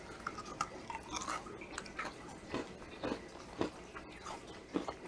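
Chewing on South African tameletjies, a crunchy nut toffee, with soft irregular crunches and bites close to the mic over several seconds, no talking.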